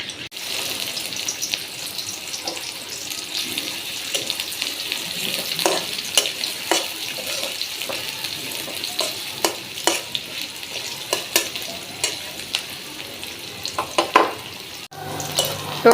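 Onions fry in oil for a pangas fish curry with tomato, giving a steady soft sizzle broken by occasional sharp clicks and scrapes of stirring.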